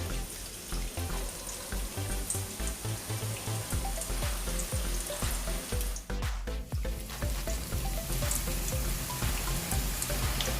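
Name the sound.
boondi batter frying in oil, poured through a perforated ladle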